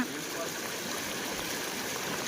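Floodwater from the Ojat river after heavy rain, rushing through a breached farm embankment in Gujarat: a steady, dense rushing roar that stays unbroken throughout.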